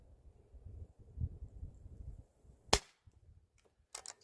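A Weihrauch HW45 spring air pistol fires a pellet with one sharp, loud crack, then a fainter double snap follows over quiet outdoor background rumble.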